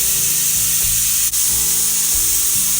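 Biryani cooked with no water sizzles steadily under a closed lid on high heat, a loud continuous hiss with faint low bubbling and a brief dip partway through.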